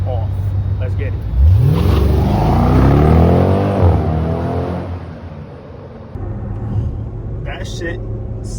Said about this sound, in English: That shit sounds like stock, bro.